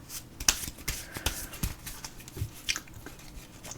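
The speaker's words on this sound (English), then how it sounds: "Let's say I had a deck of cards, right? I'll shuffle it." A deck of cards is shuffled up close, a rapid run of crisp riffling flutters and soft slaps with no talking.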